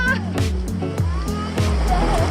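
Ocean surf washing in repeatedly at Cabongaoan beach in Burgos, Pangasinan, steady rolling water close by, with people talking and shouting over it.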